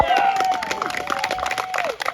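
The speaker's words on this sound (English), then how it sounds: "let's give one last round of applause for the Strangers for coming" An audience at a horror film Q&A at Kincaid Lake State Park, Kentucky, claps and cheers for the cast, a lively crowd near the microphone with scattered shouts and voices.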